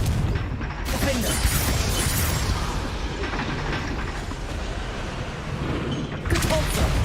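A Confringo spell blast in Hogwarts Legacy, a loud fiery boom and rumbling crackle sustained for several seconds, with sharp impacts at the start and end under game audio.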